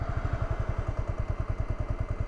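Motorcycle engine idling in gear as the clutch is released, a close, rapid and even low thumping pulse that keeps a steady rhythm throughout with no revving.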